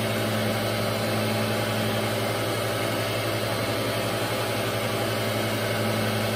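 SOPKO surface grinder running steadily with its wheel hub, a smooth, even mechanical hum with a constant low drone and no voices, moderately close.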